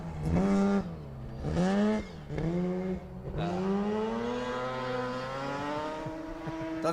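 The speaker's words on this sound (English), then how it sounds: "The beautiful Mazda RX-3 of Andy Martin." A Mazda RX-3 rally car with a rotary engine passes on a gravel stage of Rally Otago, its loud, rising engine howl swelling through several gear changes as it approaches and rushes by close.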